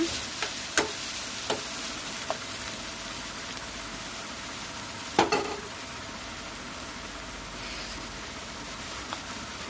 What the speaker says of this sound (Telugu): ఆనియన్స్ ఆల్మోస్ట్ ఫ్రై అయిపోయినాయి